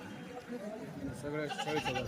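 Several goats, including Osmanabadi and local breeds, bleat over one another in short wavering cries, close and clear, amid a background murmur of people talking at the Gangakhed goat market.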